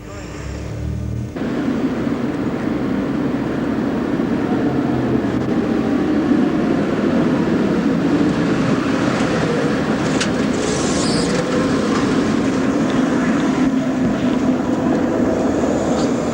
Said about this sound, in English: That's the number 6 which just came through that crossover.